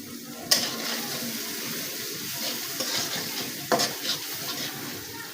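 Chilies and onions for a loitta fish curry sizzle softly in a pan, with a few stirring clatters and spoon scrapes rising over the low, continuous frying hiss, close but quiet.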